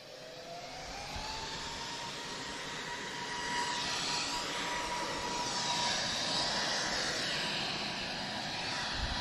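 An Emirates airliner moving at Lisbon Airport, a steady jet engine roar with a rising whine that grows gradually louder over several seconds, with no talking.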